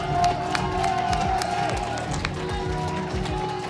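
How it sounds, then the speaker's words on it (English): Crowd cheering and clapping at a weightlifting event, where a lifter is about to pull a loaded bar off the floor; dense, steady noise from a large audience, with background voices and thumps mixed in. "Give me another round of applause for Clifton!"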